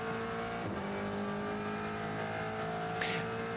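Race car at Le Mans straddling the curb, throwing up gravel as it passes; a steady engine drone with a brief higher rasping burst near the end, moderately distant.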